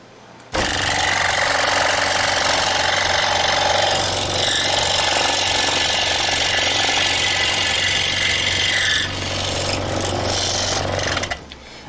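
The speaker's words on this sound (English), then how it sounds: "a 1/4 inch piece of material will simply fly through a scroll saw blade" A scroll saw cuts through a 1/4 inch wood piece, a loud steady buzzing rasp with a low motor hum that starts abruptly and runs close and continuous for about eleven seconds before stopping.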